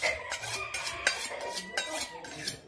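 Rhythmic metallic scraping strokes, a kitchen knife drawn repeatedly along a honing rod, about six bright swipes at a steady pace, close and fairly quiet.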